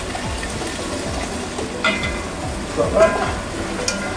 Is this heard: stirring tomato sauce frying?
yes